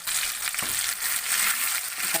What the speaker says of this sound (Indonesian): kita masukin ke sini, kita tumis dulu